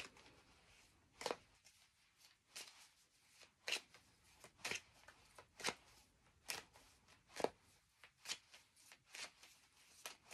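Tarot cards are shuffled for a twelve-card spread in a series of quiet, crisp riffling bursts, roughly one per second, about a dozen in all, with soft rustling between them and no talking.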